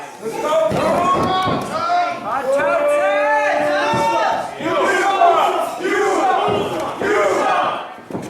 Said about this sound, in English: Crowd yelling, "You suck," at Adam O'Keefe.